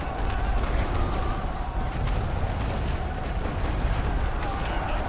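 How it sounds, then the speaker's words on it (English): Light artillery firing in the World War I strategy game The Great War: Western Front, a dense rumbling barrage of booms that rolls on loud and continuous through the whole stretch. "So we have light artillery ready again."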